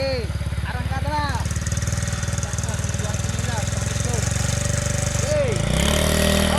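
A motorcycle engine runs close by with a steady, throbbing idle under overlapping voices, then rises in pitch as the bike pulls away with riders aboard.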